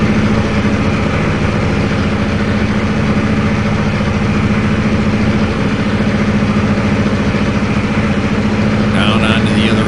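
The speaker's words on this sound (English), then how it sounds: "the engines are roaring" Locomotive diesel engines in the Trainz 2022 railway simulator roar steadily, a loud, unbroken low rumble with a humming, throbbing drone that holds the same level throughout.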